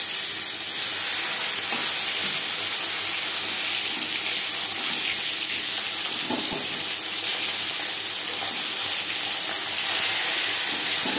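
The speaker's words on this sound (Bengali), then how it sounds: "একটা সাইড ভাজা হয়ে গেলে অপর সাইডটা উল্টে দেব।" Katla fish fries in hot oil in a pan, giving a steady, loud broadband hiss and crackle that holds evenly throughout with no talking.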